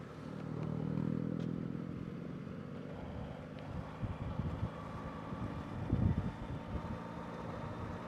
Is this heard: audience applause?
no